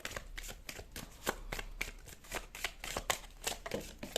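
Tarot cards are shuffled and riffled close up in a continuous, quick flutter of papery slaps and flicks, steady and fairly soft with no voices.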